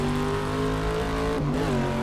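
Ginetta G10 race car with a Ford V8 engine in a racing video game, its engine droning loud and steady with sustained harmonic tones and a brief dip and shift in pitch near the end, no voices.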